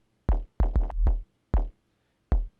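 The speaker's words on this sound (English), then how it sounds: "It's a pretty subby kick." A deep, sub-heavy kick drum with a clean sine-like boom hits several times at uneven intervals, each thump ringing briefly before silence.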